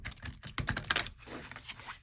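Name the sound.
side shuffling a tarot card deck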